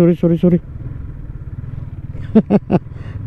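A motorcycle engine drones steadily at low pitch on a mountainous bypass road between T'boli and General Santos City, with people talking over it at the start and end.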